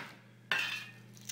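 A single sharp bash of a dough scraper against garlic cloves on a kitchen board, one crisp knock followed by a brief scraping rustle, close and quiet.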